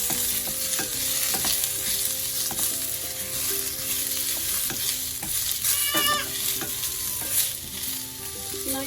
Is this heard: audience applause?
no